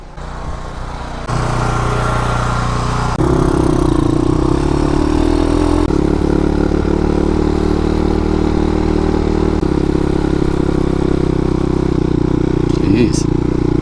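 A motorcycle engine runs close by with a steady, rough drone and some mechanical clatter, stepping up slightly in loudness partway through before settling into an even hum.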